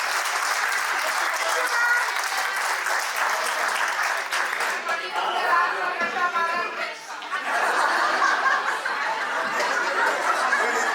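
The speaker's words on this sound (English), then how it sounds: "So great applause to all the students." An alumni meet audience applauds the students with steady clapping, mixed with chatter and light laughter that briefly rises before the clapping picks back up.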